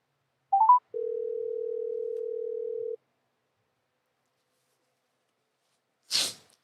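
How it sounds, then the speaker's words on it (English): A telephone call being placed: a brief rising trill of keypad tones, then a steady two-second dial tone, silence, and a short sneeze-like burst at the end. "Let me see if I can get Renee on the phone"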